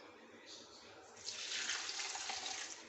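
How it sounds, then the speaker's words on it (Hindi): Water from a jug pours into a container of neem leaves, a soft hiss that swells into a fuller gushing splash halfway through and carries on steadily at low volume. "अब मैं इसमें डालूंगी पानी।"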